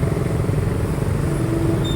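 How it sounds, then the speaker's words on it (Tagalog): Motorcycles idle and rumble in a long queue stuck in heavy traffic on an airport service road, a dense continuous low engine drone close by. "Napakahaba ng pila ng motor."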